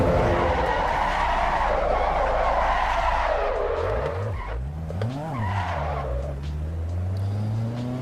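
Front tyres scrubbing and squealing on a race car in the driving sim Assetto Corsa Evo, a sustained loud tyre howl over the engine note, which then rises and falls through gear changes.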